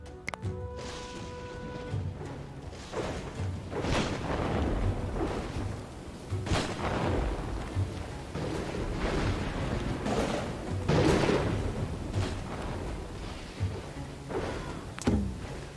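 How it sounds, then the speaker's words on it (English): Rolling thunder from a storm moving in within the survival-strategy video game Dawn of Man, a sustained low rumble with repeated louder crashes and broad noisy bursts across about sixteen seconds, with no speech over it. "So storm's coming in."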